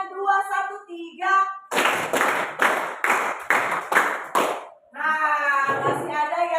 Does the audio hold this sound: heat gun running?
no